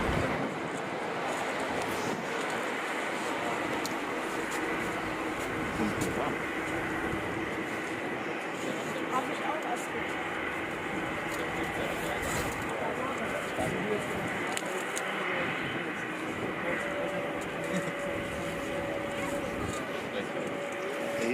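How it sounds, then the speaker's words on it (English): A jet landing at Frankfurt Airport roars with its thrust reversers deployed, a steady, broad, rumbling wash of engine noise that holds for the whole stretch while someone talks over it. "Laying down the reversers."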